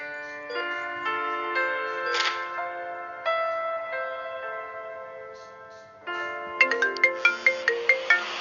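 A melodic electronic phone ringtone plays alone, its repeating chime phrases fairly loud and clear, with a brighter ticking run of notes near the end.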